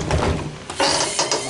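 A trolling motor is lowered on its mount with a short, close clatter of metal parts that ends in a couple of quick mechanical clicks as it locks into place.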